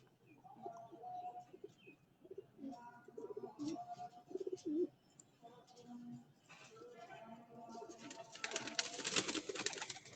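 Pigeons coo on a rooftop, their soft repeated calls close by and mixed with chirps, rustling and a voice nearby.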